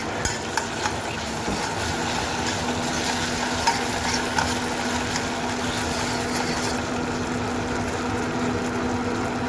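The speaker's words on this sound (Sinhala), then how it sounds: "දැන් මේකට මේ තක්කාලි පේස්ට් එක දාලා ඒක පොඩ්ඩක් හොඳට කලවම් කරගන්න" Tomato paste fries steadily in oil in a pan for sweet chili chicken, a continuous dense sizzle with spoon scraping and stirring throughout, close and even, without voices.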